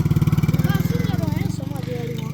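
A tractor loaded with chairs chugs steadily with a loud, rhythmic low engine throb that persists throughout, while people talk over it.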